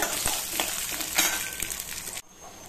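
Garlic cloves, dried red chilies and peppercorns fry in hot oil with a loud, close, steady sizzle that cuts off abruptly near the end.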